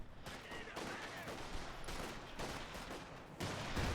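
Gunfire fills a video game battle as a string of irregular shots and bursts, some close and sharp, others duller and distant, thickening toward the end, with faint voices underneath.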